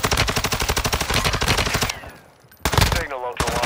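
Rapid automatic gunfire rattles in a video game, with loud, evenly spaced bursts, a short lull of fading echoes, then another close, sharp volley.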